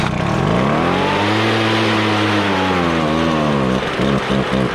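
A Craftsman 25cc leaf blower, which bogs down, runs at full choke as a loud two-stroke engine that revs up and holds before stuttering and surging unevenly near the end.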